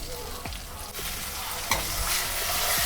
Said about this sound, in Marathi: आता आपण एक वाटण याच्यात टाकून ह्याला चांगलं परतून घेऊया